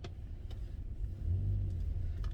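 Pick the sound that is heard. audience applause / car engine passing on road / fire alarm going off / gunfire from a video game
car engine passing on road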